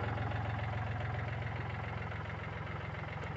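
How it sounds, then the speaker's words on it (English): A tractor engine idles steadily outdoors near a paint booth with a low, throbbing rumble that pulses evenly and never changes, with no voices over it. "That's the tractor you hear running out there."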